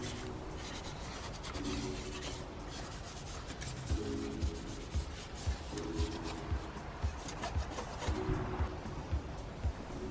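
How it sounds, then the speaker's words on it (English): Dust being wiped off the tops of computer hard drives and a graphics card, heard as steady, close rubbing and brushing strokes with soft rhythmic scuffs throughout, with no talking. "Quickly wiping the top of the hard drives. Wiping the top of my graphics card."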